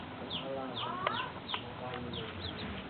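A bird calls repeatedly in short, bright chirps and clucking notes at a moderate distance, with a rooster-like fowl quality over soft background noise in a morning setting.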